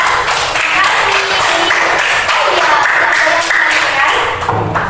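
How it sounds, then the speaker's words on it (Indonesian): A class audience applauds a student group at the close of their presentation, steady dense clapping that holds loud and even from start to finish. "Kita kasih aplaus buat kelompoknya Mas Azhar ya"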